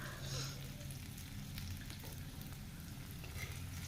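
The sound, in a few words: bay leaves and onion frying in hot oil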